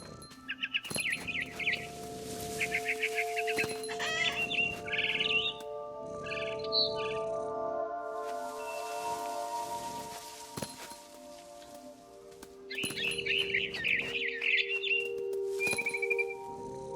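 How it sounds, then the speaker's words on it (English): In the video game What Remains of Edith Finch, a barn swallow near a window gives bright chirps in bursts at the start, middle and end, set against sustained tonal music and soft ambience. "Then I heard chirping outside my window. It was a barn swallow going back to her nest."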